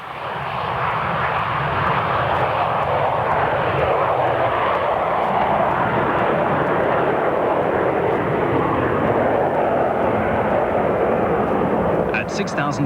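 A DC-9 jet in flight gives a loud, steady engine roar with broad rushing air noise, continuous and close as heard from inside the aircraft.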